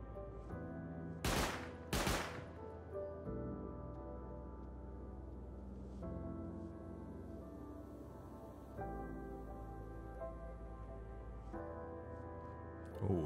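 An auto turret in the survival game Rust fires from a distance, two loud bursts early on followed by fainter intermittent shots over a constant low rumble of ambient game noise.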